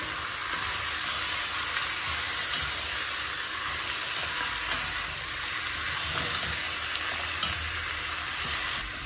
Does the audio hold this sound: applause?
no